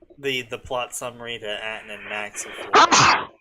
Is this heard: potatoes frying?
no